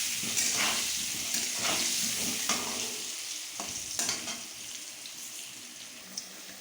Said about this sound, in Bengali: ওইদিকে আলুটা ভাজা হচ্ছে আর আমি এদিকে দেখিয়ে নিচ্ছি।